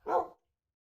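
A puppy gives a single short, close bark, loud for a moment and then gone, followed by silence.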